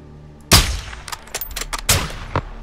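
Gunfire in Call of Duty: Modern Warfare II: one loud close shot opens the burst, then a string of quicker, lighter cracks and a second heavy report echo through the game scene.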